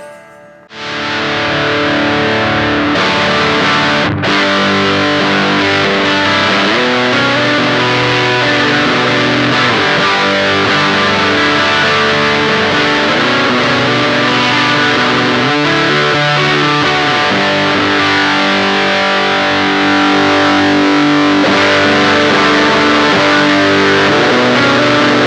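Electric guitar played through a Beetronics Nectar fuzz and overdrive pedal, giving a loud, thick, saturated distorted tone with sustained chords and riffs ringing continuously and alone.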